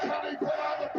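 A WWE SmackDown arena crowd cheering and yelling in a broadcast, a loud sustained roar with bursts of shouts.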